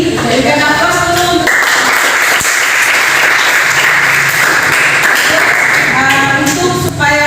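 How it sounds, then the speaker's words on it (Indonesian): Students clapping and applauding in a high school classroom, a dense, loud burst of hand claps sustained for several seconds with a teacher's voice briefly before and after. "Berikan aplaus dulu."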